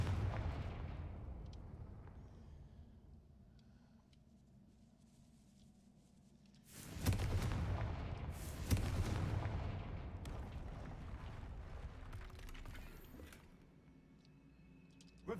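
Confringo blasting spells exploding in Hogwarts Legacy amid a debris-strewn area left by a troll: two booming blasts a couple of seconds apart, each trailing a rumbling decay over a quiet background.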